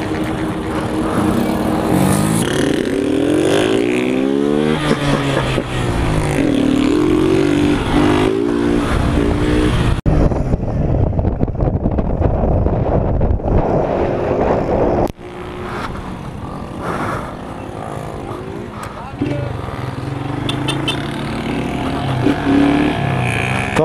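A motorcycle revving hard and loud through a wheelie stunt at a cargo terminal, its engine surging and dropping in repeated pulls, with a brief near-silent gap midway before the roar returns.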